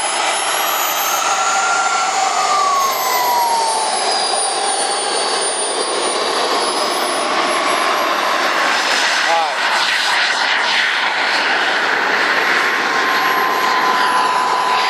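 Model jet aircraft with thrust vectoring flying at a jet rally, its loud turbine whine roaring continuously and sweeping in pitch as it passes overhead.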